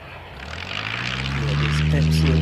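A flight school propeller plane at Christchurch airport, its engine drone steadily building and rising in pitch as it nears, growing louder across the whole stretch.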